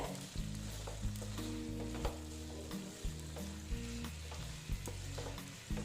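Quiet stirring of yardlong bean curry with kasuri methi, soft periodic scrapes roughly once a second over a low sizzle and a steady low tonal hum.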